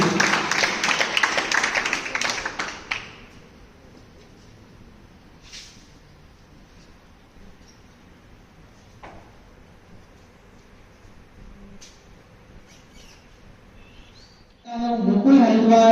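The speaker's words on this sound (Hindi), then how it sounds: "एक बार जोरदार तालियां नीलेश के लिए।" Loud applause from a crowd at a school ceremony honouring a student in Nawalgarh rises sharply and dies away after about three seconds. A quiet room with scattered small knocks follows, and a voice starts at the end.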